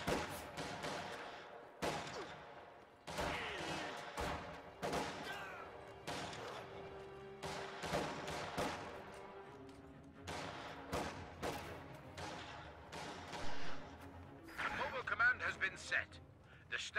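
Gunfire from enemy infantry in a real-time strategy game, with sharp broadband shots scattered irregularly in bursts throughout, mixed with game sounds and a speaking voice.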